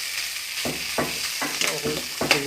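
A goat head being stirred in a frying pan, with repeated scraping strokes about every half second over a steady oil sizzle, close and moderately loud.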